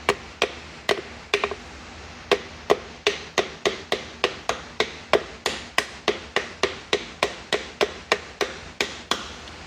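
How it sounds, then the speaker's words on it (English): Sharp metallic taps from a 48-ounce hammer on a metal rear main seal sleeve of a Chevy 350/383 engine, in a quick, even rhythm, about twenty-five close strikes, each ringing briefly. "And just very light taps. This is a 48 ounce hammer here."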